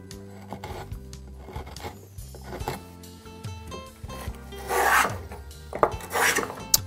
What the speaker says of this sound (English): Let's switch to the walnut, but before we do that, let's clean off the chisel.